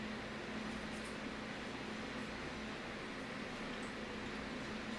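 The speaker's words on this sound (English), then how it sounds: "If you hear any noise, it's my air conditioner. It's a little loud today." A room air conditioner runs steadily, a constant broadband hum with a low tonal drone that stays even and fairly loud throughout, with no talking.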